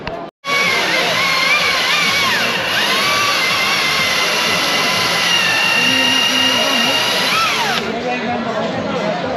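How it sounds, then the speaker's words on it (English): A battery-operated chainsaw cuts steadily at an outdoor fair in Inca, Mallorca, a loud whine that holds for about eight seconds after a brief pause at the start, with faint crowd noise beneath. "that's a battery operated chainsaw. Wow. Slices through it"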